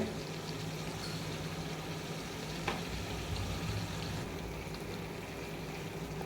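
Goat liver frying slowly in a pan for a spicy bhuna, making a faint, even sizzle that holds steady throughout with one small tap near the middle and no voices.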